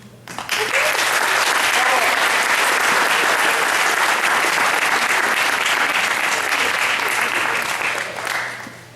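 Sustained audience applause at an Eagle Scout Court of Honor ceremony swells quickly to full strength, holds steady for several seconds of dense clapping, then tapers off near the end.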